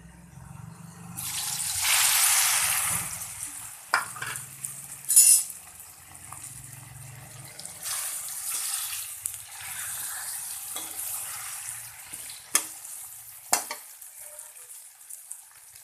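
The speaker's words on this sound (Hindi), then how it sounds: "तो आइए हम अपने गट्टों को फ्राई करते हैं।" Gram flour gatte dumplings fry in hot oil, giving a steady close sizzle with bursts of bubbling and occasional clinks of a utensil against the pan, no voices.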